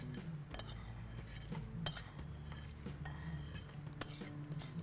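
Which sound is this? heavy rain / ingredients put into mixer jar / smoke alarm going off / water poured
ingredients put into mixer jar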